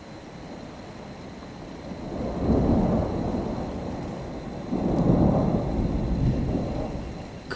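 Two long rolls of thunder from a thunderstorm rumble low and heavy over a faint rain hiss, each swelling for a couple of seconds before fading, moderately distant.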